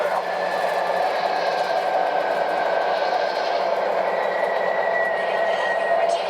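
An MTH model train locomotive runs around a track loop with a continuous close whirring rumble of motor and wheels, joined by a steady high tonal whine, and the sound holds level throughout.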